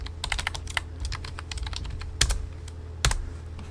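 Close, quiet typing on a computer keyboard with quick irregular key taps and two louder heavy keystrokes near the end.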